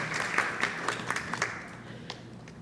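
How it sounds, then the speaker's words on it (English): A temple congregation at a Krishna Mandir Sunday service claps in a round of applause, the sound fairly soft and slightly distant, with a few sharper claps standing out before it thins toward the end. "we want to give them a round of applause"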